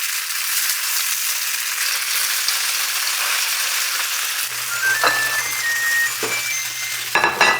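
Breakfast food frying in a lightly salted pan, giving a loud, steady, close sizzle throughout with a faint tonal whine and a few small clinks near the end.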